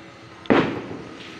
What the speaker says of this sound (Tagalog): Naririnig nyo ng putok ng kwitis.